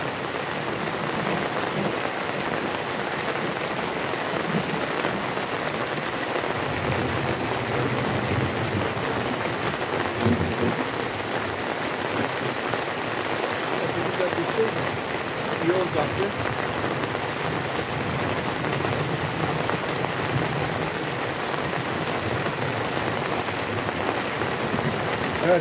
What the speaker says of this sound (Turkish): Güzel de yağmur yağıyor bu arada.